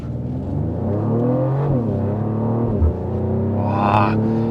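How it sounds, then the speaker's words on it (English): A 2024 Mercedes GLE 53 AMG Coupe exhaust revving up and settling back down, loud and close with a deep, steady engine drone and a brief higher rise near the end. "Part of this satisfying feeling is from the exhaust note. I mean, it's really loud."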